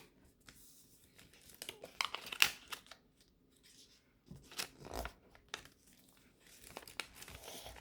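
Close, quiet paper crinkling and rustling as a sheet is folded into an origami cushion fold, coming in short soft bursts separated by near-silence.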